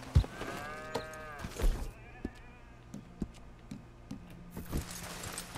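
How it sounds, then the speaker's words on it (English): Goats and sheep bleat in Red Dead Redemption 2, a few clear wavering calls near the start, then fainter scattered animal noises and clicks over a low ambient hum. "Thought John didn't like goats"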